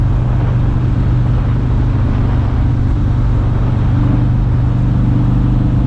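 Harley-Davidson Road King FLHRXS with the 114 engine on a test ride, a steady, loud low rumble with road and wind roar that holds evenly without a break.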